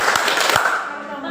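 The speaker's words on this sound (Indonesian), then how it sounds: "Oke, tepuk kedua." A group claps a rhythmic routine during an Indonesian health and nutrition session, a few sharp, loud, patterned claps over a short burst of voices.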